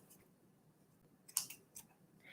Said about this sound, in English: I'm going to cut it with my scissors